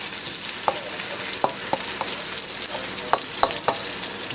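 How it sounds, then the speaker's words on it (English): Onions frying on high heat in a pan, seasoned with garlic, giving a loud steady sizzle with sharp utensil clicks against the pan every so often. "Brown your onions a little bit."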